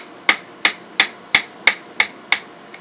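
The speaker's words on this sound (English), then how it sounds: "So a punch and a non-marring hammer, a couple good healthy whacks," A non-marring hammer strikes a punch to drive a pin from a Remington 742 Woodmaster 30-06 rifle: seven sharp, evenly spaced metallic knocks about a third of a second apart, close and crisp, with a faint eighth tap.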